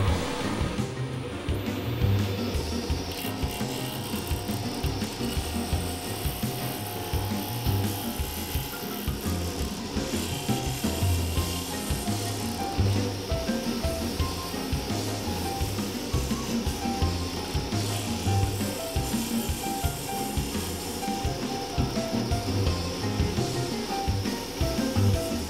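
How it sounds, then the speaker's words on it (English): A wood lathe spins at about 2500 rpm while a lidded box of Milliput epoxy inlay is turned with a bowl gouge or carbide cutter, a steady, dense whir with continuous cutting noise and no pauses. "So I have a lathe speed about 2500."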